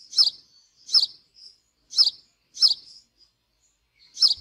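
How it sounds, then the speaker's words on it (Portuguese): A house sparrow gives five sharp, bright chirps at fairly even intervals, close and clear against silence. "Pardal. Esse é um dos passarinhos mais abundantes"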